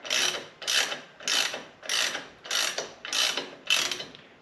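A ratchet tightens a motorcycle fork cap in seven steady strokes, each a close, crisp burst of rapid clicking separated by short pauses.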